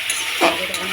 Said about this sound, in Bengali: এবার কষাবো একটু, কষাতে থাকি।